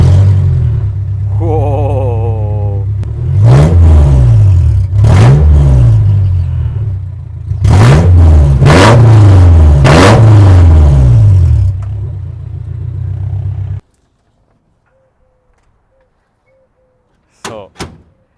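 A Ford Model A fitted with a swapped Honda S2000 engine revs hard in several loud bursts, each rising and falling, close by, before cutting off to near silence, then a brief clunk; a person exclaims once.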